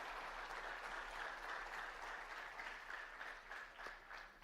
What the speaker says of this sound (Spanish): Dale un fuerte aplauso a la palabra viva del Señor.